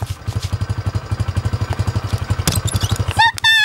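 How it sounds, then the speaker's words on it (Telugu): Two motorbikes collide in a movie scene: a steady, throbbing motorcycle engine beat runs loud and close, then a sharp crash hits near the end, followed by a brief high squeal. "బైక్ 2 గుద్దుకున్నాయి"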